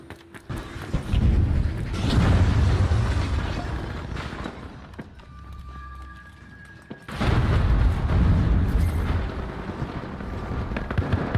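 Flashbang grenades go off in the video game The Finals: two big, roaring bursts of blast noise several seconds apart, with a quieter ringing lull between them.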